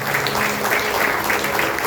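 Congregation applauding during a church service, a brief, steady wash of clapping with a faint murmur underneath.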